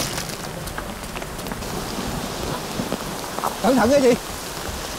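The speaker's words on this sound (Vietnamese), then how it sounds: "Mưa." Steady rain falls on a rural home with a leaking roof, a continuous hiss under brief spoken lines in Vietnamese.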